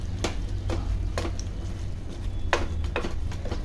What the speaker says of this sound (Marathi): आणि आता ढवळतानाच रवी वापरायची. छान असं घोटून घ्यायचं आहे रवीने.